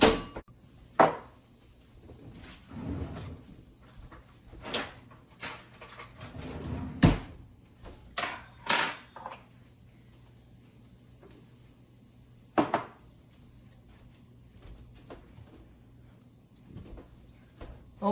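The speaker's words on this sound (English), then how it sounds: "Now we're gonna wash the wok real quick." A wok being washed at a kitchen sink: scattered clanks and scraping knocks of metal on metal and hard surfaces, with quiet stretches between the sharper hits and no talking.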